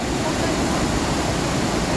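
A muddy, reddish river rushes over a low waterfall drop, giving a loud, unbroken roar of broadband water noise that stays constant throughout.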